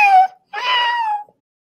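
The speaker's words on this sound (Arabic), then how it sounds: "كت." A cat gives two close meows, a short one followed by a longer drawn-out one, with a clear pause between them and nothing else around.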